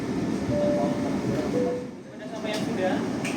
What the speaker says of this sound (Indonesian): Pukul 20:19 kereta api Progo tiba di stasiun Bekasi.